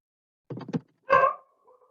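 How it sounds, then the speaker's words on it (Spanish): A dog gives a couple of short barks nearby, a quick pair followed by one louder bark, then quiet. "Y está el perro ladrando."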